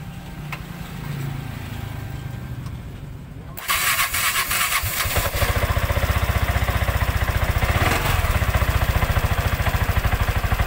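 A Piaggio Ape three-wheeler's engine catches after a few seconds of quiet, then settles into a loud, rapid, even putter close by, without any voices.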